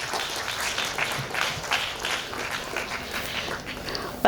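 Moderate applause from an audience at a cultural festival event, a soft wash of clapping at middle distance, steady throughout with no clear talk.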